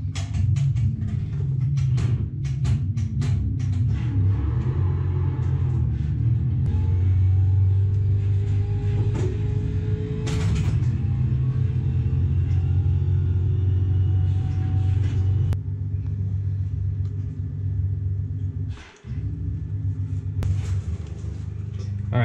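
A race car in the iRacing sim drives laps, a steady loud engine drone and rumble with gear shifts and pitch swings, continuous throughout with a brief dip near the end.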